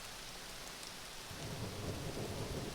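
Steady rain hisses throughout while a low rumble of thunder swells in partway through, distant and soft, with no voices.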